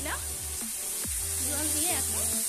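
A splash of water added to ground cumin and turmeric in a hot pan sets off a steady, hissing sizzle, with a voice talking over it at moderate level.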